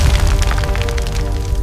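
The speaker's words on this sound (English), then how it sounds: "The sound arrives after the explosion" A loud, deep explosion boom rolls on continuously with heavy low rumble and crackling debris texture throughout.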